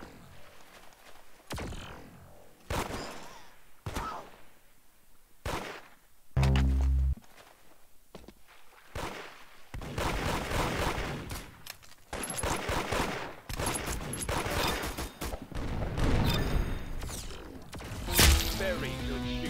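Gunfire in the Roblox shooter Arsenal: sharp single shots and quick bursts ring out at irregular intervals, mixed with footsteps and thuds, growing into denser, louder firing in the second half.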